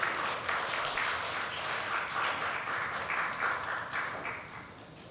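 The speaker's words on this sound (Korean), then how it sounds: "우리 큰 박수로 맞이해 주시기 바랍니다." A congregation at a Sunday worship service applauds warmly with a continuous wash of many hands clapping, moderately distant and fading slightly toward the end.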